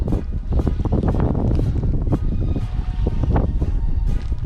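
Strong, steady wind buffeting the microphone while wade fishing for trout in the surf at Galveston, Texas, a constant loud roaring rush with no pauses and no voices.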